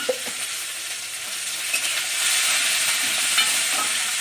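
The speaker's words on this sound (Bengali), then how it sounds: "পেঁয়াজটা ভালো করে ভেজে নিচ্ছি।" Onion fries in a pan for a potol korma, sizzling steadily with brief stirring scrapes, the hiss growing louder partway through.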